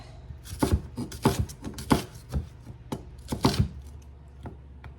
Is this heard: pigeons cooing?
no